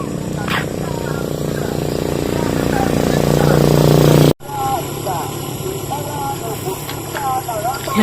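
A motorcycle engine revs and runs steadily up close, building in loudness before cutting off abruptly; outdoor background noise and distant birds follow.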